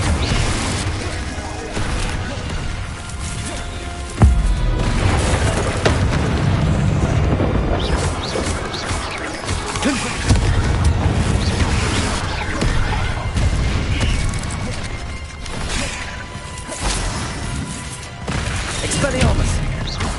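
Confringo fire spells exploding in the video game Hogwarts Legacy: repeated loud booms and crashing blasts amid continuous combat noise, dense and close, with a sharp impact near the start of the barrage.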